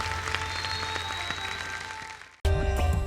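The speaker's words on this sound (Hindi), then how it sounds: "एक बार जोरदार तालियां हो जाए" Applause rises from the studio audience of a televised Indian dance competition, a steady wash of clapping that thins out, breaks off briefly, then returns louder and closer.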